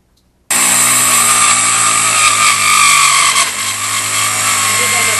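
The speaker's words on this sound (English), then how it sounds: "We use a diamond core wet drill" A diamond core wet drill starts abruptly and runs as a loud, steady, close-up grinding whine while cutting a hole, its pitch easing slightly partway through.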